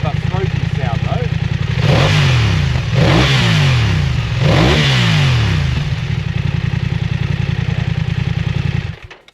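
A BMW F 900 R motorcycle engine idles with a throaty pulse, then revs up sharply three times in quick succession, each blip rising and falling before settling back to a steady idle, loud and close.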